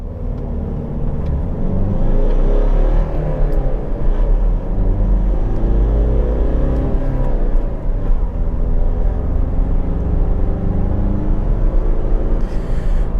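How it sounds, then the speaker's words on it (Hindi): A 2012 Mitsubishi Pajero Sport 4x4 with manual transmission pulls away in first gear, its engine a steady, close low rumble that builds slightly as it moves off, with no talking. "Now let's slot in the first gear and let's go"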